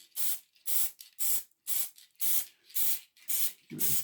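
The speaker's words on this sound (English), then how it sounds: "give it a quick spray of the old glue" Glue sprayed from an aerosol can onto a model train layout embankment, eight short hissing bursts in a steady rhythm with brief gaps between, close and loud.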